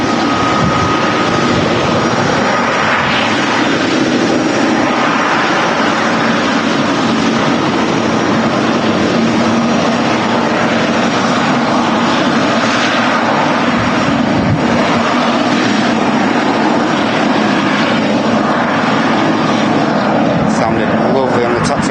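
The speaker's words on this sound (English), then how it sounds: "Giant G90 engines. which enable this beautiful aircraft to leave the ground" A jet airliner with GE90 engines taxis at Manchester Airport, its loud continuous rumbling roar filling the scene from start to finish while a person talks over it.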